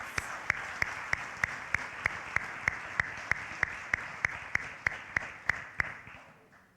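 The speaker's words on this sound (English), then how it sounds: "Please give a round of applause for our cum laude students." Audience applause at a senior awards ceremony honoring cum laude students, heard as a steady wash of clapping with a few sharp, evenly spaced louder claps on top that fade out near the end.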